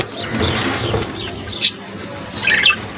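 Budgerigars in a cage, with short bursts of wing flapping and a couple of sharp chirps over a rustling background.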